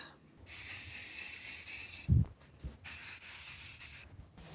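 Aerosol lacquer sprays onto a burr walnut veneer dash from a Triumph Spitfire Mk3 in two sustained, close hissing bursts, split by a short pause with a faint knock, and a brief third spray at the end.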